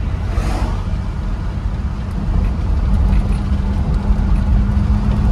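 The engine of a car more than fifty years old drives along in a steady low rumble with road noise. The drone is continuous and close, with no speech over it.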